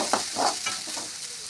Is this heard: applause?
no